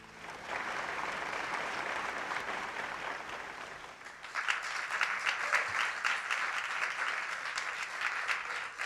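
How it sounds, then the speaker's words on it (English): A live audience breaks into dense, sustained applause that swells louder midway through and continues without talk. "you also get one here in the live audience"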